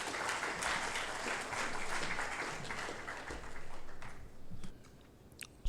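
A conference audience claps to welcome a speaker, dense applause sustained for several seconds before thinning out to a few stray claps.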